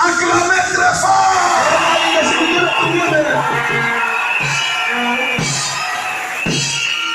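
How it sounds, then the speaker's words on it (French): A crowd at a tabernacle church gathering yells and cheers loudly, with whoops and bellowing voices layered into a sustained, energetic roar that dips briefly in spots. "Acclamez très fort!"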